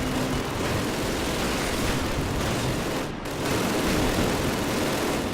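Sustained automatic weapon fire from the video game Call of Duty, a dense, continuous rattle of rapid shots with a brief pause partway through before it resumes.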